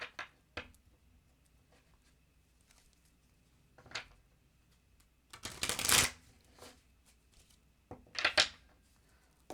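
Tarot cards being shuffled in quiet bursts, a few short riffles followed by two longer, louder shuffles near the end, close and alone without voices.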